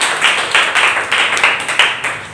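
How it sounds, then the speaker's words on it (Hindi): Students in a Delhi school classroom clap for their classmate Priyanka, a loud group of hands striking together in a steady, pulsing rhythm of roughly two beats per second. "प्रियंका के लिए जोरदार तालियां बजा दीजिए"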